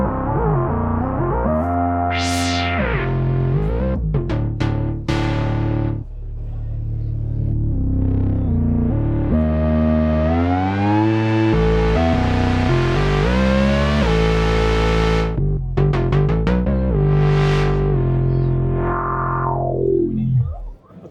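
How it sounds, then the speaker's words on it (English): Omnisphere 2.5 synthesizer patch triggered over MIDI from a Moog Voyager keyboard, loud and continuous with sweeping, gliding pitches, distorted rumbling swells and echoing tones over about twenty seconds. "what you're hearing is Omnisphere."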